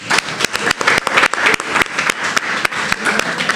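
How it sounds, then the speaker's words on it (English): A crowd applauds at a Black history and heritage quiz celebration, with dense, steady clapping that carries loud and close from start to finish. "I'd also like to give applause to all of us, because we did great"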